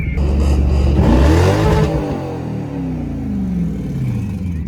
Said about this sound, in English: The Lexus is misfiring.